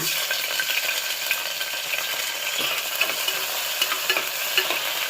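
Cloves, cardamom, fennel and onion fry in oil and ghee in a pan, giving a dense, steady sizzle with light crackles and faint utensil taps throughout.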